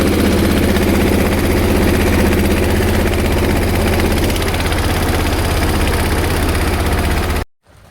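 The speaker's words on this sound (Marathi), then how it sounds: "काका ट्रॅक्टर सोडली ढकलून लगेच चालू केलोय" A farm tractor, just started after being pushed off, runs at a steady idle with a heavy, throbbing, vibrating drone, loud and close, before cutting off abruptly near the end.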